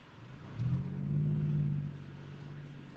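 A car engine hums in traffic. A low tone swells for about a second, then settles back into a steady drone of road noise, heard from inside the vehicle.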